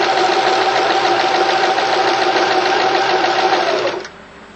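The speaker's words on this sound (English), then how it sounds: "Use a fairly short stitch, particularly around corners." A sewing machine stitches a tarp with a short stitch, running in a steady, loud, fast whir for about four seconds before stopping abruptly.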